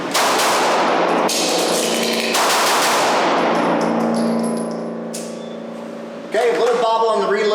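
Pistol shots fired during the F.A.S.T. shooting drill on a range, with sharp loud reports and ringing metallic decay, then a pause before another shot near the end.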